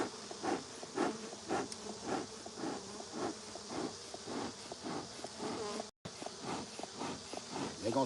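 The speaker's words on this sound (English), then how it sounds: "do we got a nice stream of bees coming out." Dense, steady buzzing of a honeybee swarm streaming out of a 200-year-old cedar tree during a trap-out with smoke, a continuous close hum with pulsing swells and a brief dropout near the end.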